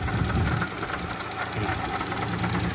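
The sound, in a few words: idling engine of a 1997 Daewoo Tico 0.8 car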